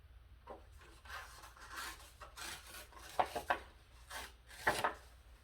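Paper or tape is torn off for a planner setup, close quiet rubbing and ripping sounds in short bursts with a couple of sharper tearing scrapes near the end.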